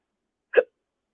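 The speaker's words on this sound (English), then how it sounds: "I have the hiccups" A single short hiccup, close and fairly loud, in an otherwise quiet space, with no talking around it.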